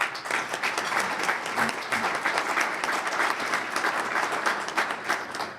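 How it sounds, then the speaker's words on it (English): Audience at a college presidents' breakfast giving a round of applause, a loud, dense and sustained clapping from a large room of people, steady throughout without speech over it. "A round of applause, please."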